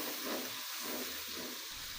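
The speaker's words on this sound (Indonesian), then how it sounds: "Kita tumis bumbunya sampai benar-benar matang atau sampai tanak ya bun." A pan of spice paste with dried red chilies sizzles steadily for gulai, a continuous broad hiss close by with faint bubbling swells, heard alone.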